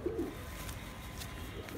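Racing homer pigeons coo softly, a couple of low throaty calls near the start and end over a steady faint background hiss.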